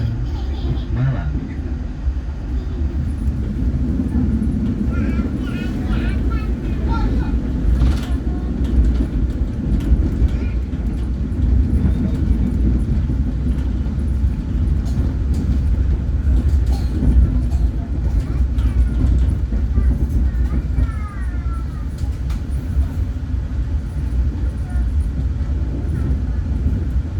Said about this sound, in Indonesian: Perjalanan kereta api Majapahit sesaat lagi akan tiba dan berhenti di stasiun Tegalan Malang.